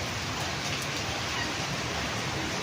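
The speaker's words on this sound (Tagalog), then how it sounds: "Ulan na naman o." Steady, even rainfall hisses throughout, a dense wash of drops with no voices or breaks.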